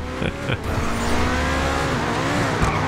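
An Audi R8 V10 drifting in GTA Online, its engine droning loud and close with rising and falling pitch as the tires squeal, broken by a few sharp knocks early on.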